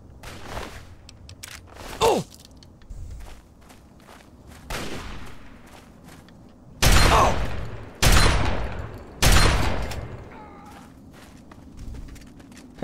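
Shotgun blasts in Fallout 3, fired at raiders: a few heavy, booming shots spaced several seconds apart, loud and close, with lighter thuds and footsteps between them.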